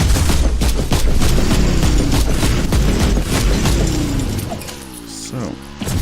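Heavy enemy gunfire in a Warhammer 40,000: Inquisitor battle, a loud rapid volley of sharp blasts and booms packed together, easing off toward the end into lower rumbling effects.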